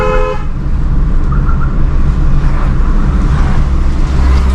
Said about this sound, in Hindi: स्कूटी वाले हॉर्न देंगे